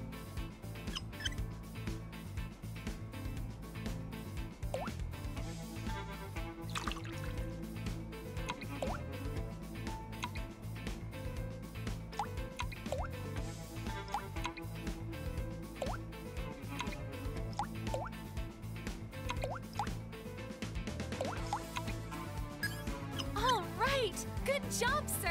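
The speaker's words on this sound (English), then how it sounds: "Make sure you count the drops that drip down." Oil drops dripping into perfume in the Crisis Core Final Fantasy VII Reunion video game, a rapid steady series of small liquid drips under game music and voices.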